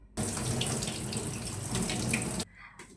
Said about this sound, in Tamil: உருளைக்கிழங்கு நல்லா வாஷ் பண்ணிவிட்டு